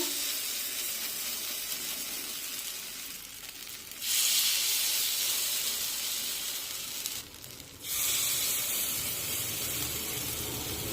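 Carrot appe batter hits a hot appe pan and sizzles steadily and close, rising in two louder surges as more cavities are filled, with no talking.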